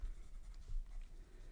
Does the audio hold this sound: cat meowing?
no